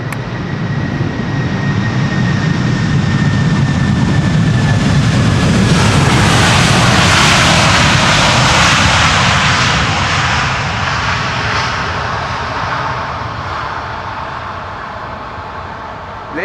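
Airliner landing on runway 18R at Amsterdam Schiphol with reverse thrust, a loud roaring jet rush that swells to a peak midway and then slowly fades as the aircraft decelerates.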